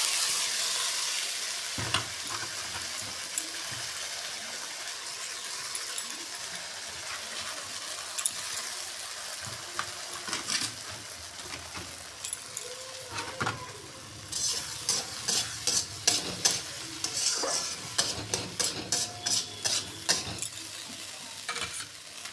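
Green pea paste fries in white oil with asafoetida, a soft continuous sizzle at first, then increasingly frequent rhythmic scraping and tapping of a spatula stirring the pan in the latter half.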